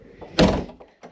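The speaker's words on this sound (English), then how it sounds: "Close the door." Wooden door of an alpine-style lodge room swinging shut with one solid thunk, close by, followed by faint small knocks as it settles.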